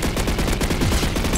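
Rapid gunfire from a Roblox PvP match: dense, steady bursts of repeated shots that sound like automatic weapon fire, loud and continuous, with no voices.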